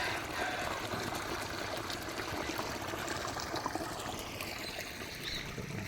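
Irrigation water from a motor pump streams steadily into a turmeric field, a continuous close splashing trickle and rush with no pauses.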